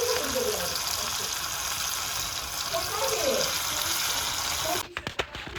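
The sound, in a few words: fish sizzling while frying in oil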